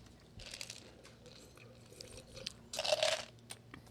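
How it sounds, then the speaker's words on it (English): Quiet, close chewing of a dry Taco Bell chicken tender taco, with soft crunchy bites throughout and a louder burst of crunching near the end; no talking. "I have to finish chewing before I rant"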